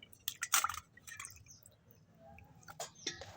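Cut swarna punti fish being washed by hand in water in a home kitchen: soft splashes, drips and squishy handling sounds, a few close bursts then quieter trickling, faint overall with no talking.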